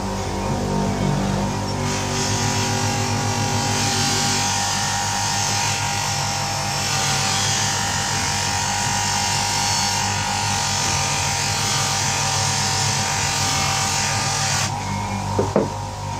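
A buffing wheel polishes a pipe with a steady, close electric whir and buzz that holds for most of the clip, then cuts off near the end with a few faint knocks.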